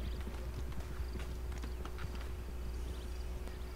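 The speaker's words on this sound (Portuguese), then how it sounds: "Opa, cavalo. Cavalo selvagem." Steady clip-clop of a wild horse's hooves trotting on hard ground in the video game Red Dead Redemption 2, moderately close, over a low ambient hum with no talking.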